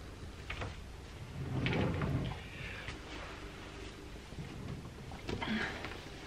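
Wooden-sounding drawer in a bedroom dresser being slid open and shut during clothes sorting, giving a few soft scraping and knocking thumps at close range in a quiet room, with no talking.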